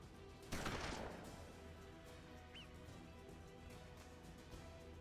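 Gunfire in the turn-based Western game Hard West: one sharp, loud shot near the start with a decaying tail, followed by quieter game ambience.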